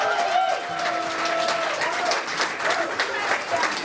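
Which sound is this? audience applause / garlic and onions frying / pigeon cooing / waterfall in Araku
audience applause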